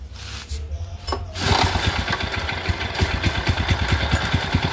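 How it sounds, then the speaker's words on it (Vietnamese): A used Japanese Mitsubishi GM engine is started for a test run; it catches after a moment and settles into a close, loud, steady idle with an even rhythmic chug. "bây giờ sau đây là mình cũng xin test máy luôn cho anh em xem"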